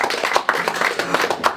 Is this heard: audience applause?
yes